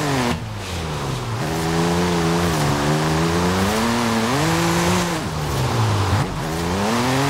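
BMW M4 G82 with a 3.0-litre twin-turbo inline-six in the video game Forza Horizon 5, a loud, steady engine drone that revs and dips in pitch several times with no talk.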